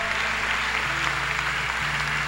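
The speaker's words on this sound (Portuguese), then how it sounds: "Vamos dar um aplauso ao Senhor." A Sunday church service congregation claps in steady, continuous applause, moderately loud, over a sustained organ or keyboard chord that shifts pitch beneath it.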